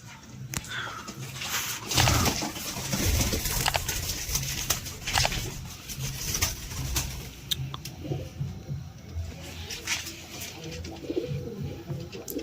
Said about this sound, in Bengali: সবগুলো টনটনে পায়রা, বেশ ভালো কোয়ালিটির পায়রা আছে